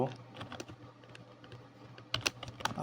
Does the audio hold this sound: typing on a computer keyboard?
yes